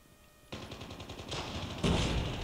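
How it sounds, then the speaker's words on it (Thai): Sustained automatic gunfire from a UL736 light machine gun in Call of Duty Mobile. The rapid rattling bursts start abruptly after a quiet moment and grow louder and denser toward the end, with no talking. "มีปืนกลอยู่ข้างหน้าว่ะ"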